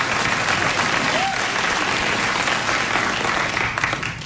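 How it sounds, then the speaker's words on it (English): A late-night talk show studio audience applauds, a sustained wash of clapping with some crowd murmur throughout, while a voice briefly cuts through partway. "You just gave a round of applause to a cup."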